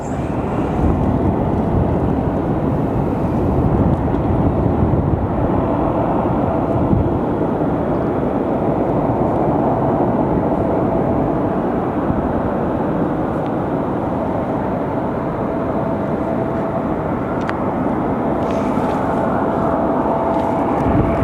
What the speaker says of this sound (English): especially when they turn on their reverse thrusters. You can hear the braking actually happening.